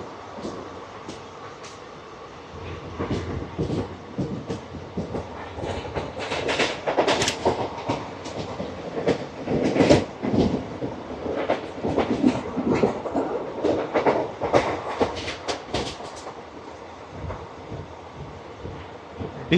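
The Palnadu SF Express (12747) running on the Guntur–Vikarabad line, heard from on board: a continuous rumbling roll with rhythmic clickety-clack of wheels over rail joints and some wind noise, steady throughout.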